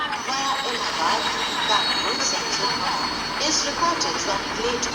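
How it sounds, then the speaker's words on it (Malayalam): A passenger train pulls into a large station on the Durgapur to Kanpur route, with a steady rumble, wheel squeal and metallic clatter close by, and voices in the background. "നമ്മൾ ഈ സ്റ്റേഷനിലേക്ക് കയറി നമ്മുടെ ട്രെയിൻ വലിക്കുകയാണ്"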